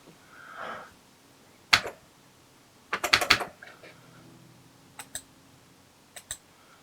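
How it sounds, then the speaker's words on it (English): Keys clack on an F09 Famiclone built into a computer keyboard, with a single press, then a quick burst of several clicks and a few scattered taps, close and fairly crisp in a quiet room. "so can we in fact use the keyboard?"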